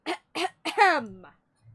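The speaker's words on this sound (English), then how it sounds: "You clear your throat." A character clears their throat in the video game Cooking Companions, three short voiced bursts followed by a longer gravelly, falling rasp, close and isolated against silence.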